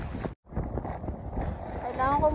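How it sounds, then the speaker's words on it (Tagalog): Strong snowstorm wind buffeting the microphone in loud, continuous broadband roaring gusts, with a brief dropout near the start. "Kailangan ko munang uminto dahil sobrang lakas ng hangin."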